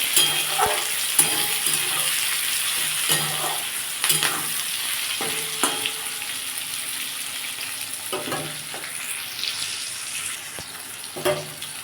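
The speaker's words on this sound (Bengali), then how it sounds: "পেঁয়াজ আর টমেটোটা ভালো করে ভাজবো লাল লাল করে" Chopped onions and tomatoes frying in oil while being stirred for a chicken curry, a moderate sizzle broken by repeated scraping and tapping of the spoon against the pan.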